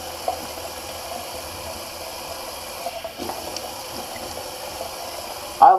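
Cold tap water runs steadily for a shaving rinse, a continuous close hiss of flow with a brief louder splash at the end.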